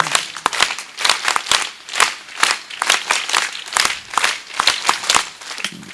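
Audience clapping for a gymnastics and exercise display by gurukul students at an ashram's annual festival, a dense run of sharp claps in rhythmic bursts that swell and ebb, fairly close, with no talk over it.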